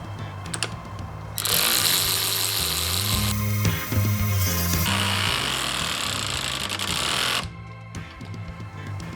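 A Ryobi 18V ONE+ cordless 3/8-inch ratchet drives a 2-inch, 1/2-inch lag bolt into solid redwood, whirring and clattering in two long, close bursts with a brief pause between, the pitch shifting as the bolt seats.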